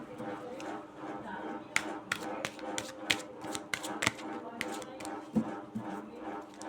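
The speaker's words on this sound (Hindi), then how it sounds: "एक शफल और चाहिए मुझे।" Tarot cards being shuffled by hand, a run of crisp, rapid riffling clicks and snaps in irregular bursts, fairly close and clear, with some soft background talk under the card noise.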